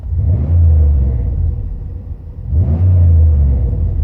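A car with its exhaust resonator removed is revved twice, each rev a loud, deep, booming engine rumble that swells and then drops back to idle between the two bursts.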